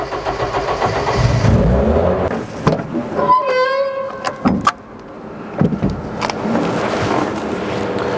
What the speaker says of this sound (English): Listen this rally machine sound.